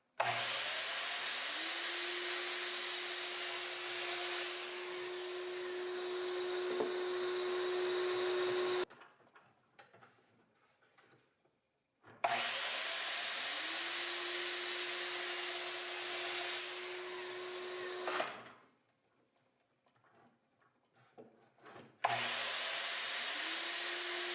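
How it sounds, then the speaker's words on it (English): A power drill drives screws through floor boards into the frame of a camper build, two long whining bursts of several seconds each, close and loud, separated by quiet pauses. "I got all these spaced out, good boards underneath, and I'm just screwing them in"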